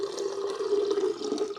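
Mineral water pours steadily into a Hot & Cold portable thermos tumbler, a continuous close splashing stream with no talk over it.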